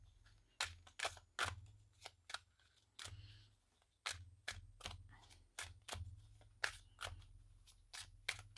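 Oracle cards being shuffled by hand, giving a quiet series of sharp, crisp card snaps and riffles in irregular rhythm, close by with no talking.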